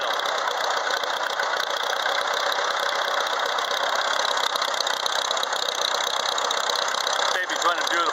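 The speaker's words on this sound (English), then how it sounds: "running at low idle" A 1940 Farmall A tractor engine running at low idle with the choke open, giving a steady, continuous mechanical chug with no breaks.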